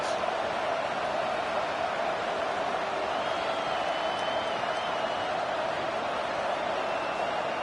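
Steady roar of a stadium crowd at a football game, cheering for the defense as it tries to make a red-zone stop; a dense, continuous wash of noise with no breaks, a commentator's voice faintly underneath.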